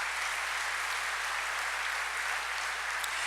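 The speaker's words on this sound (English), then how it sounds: "I really give her a round of applause" Keynote audience applause heard as a steady, distant wash of clapping, even and unbroken throughout, fairly faint with no talk over it.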